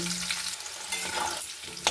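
A soft, steady sizzle of pumpkin and carrot frying in a pan, with occasional stirring scrapes and a light clack near the end.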